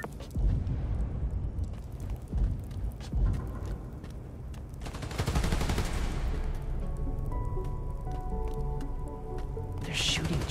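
Rapid gunfire bursts from a Spider-Man: Miles Morales game fight, loud and crackling over a dense backdrop of game music and effects, with a sharp flurry around the middle and brief voices mixed in.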